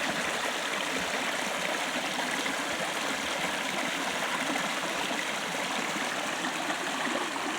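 Rain-swollen stream in a valley spills over rocks and a fallen log after heavy rain, a steady, full rushing wash of water that stays close and constant throughout with no voices.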